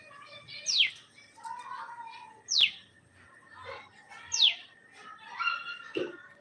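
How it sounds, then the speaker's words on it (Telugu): Short, sharp sparrow chirps repeat about four times at a steady pace, with softer twittering in between and a quiet outdoor background. "సో పిచ్చుకల సౌండ్ వినిపిస్తుందా మీకు"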